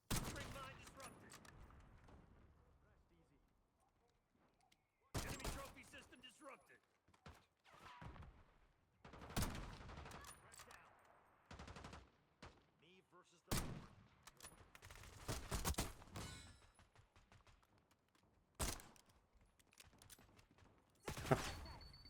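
Scattered bursts of pistol and rifle gunfire in a shooter video game with an LR 7.62, sharp loud shots separated by quieter stretches where a person talks.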